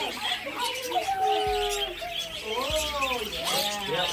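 Many birds chirp and tweet in a close, busy chorus during a wildlife encounter, with chattering calls running throughout while people talk nearby.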